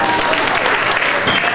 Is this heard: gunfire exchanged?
no